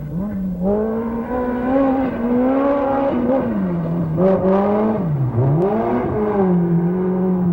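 A Ford RS200 rally car engine roars continuously while racing uphill, its pitch rising and dipping as it revs through gear changes, loud and close throughout.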